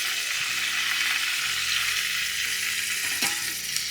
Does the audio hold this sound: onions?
yes